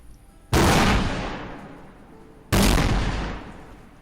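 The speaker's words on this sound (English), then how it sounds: "And these fireworks were so loud and gave Dragonlord such a fright" Two loud fireworks blasts, about two seconds apart, each a sharp crack followed by a long rumbling decay.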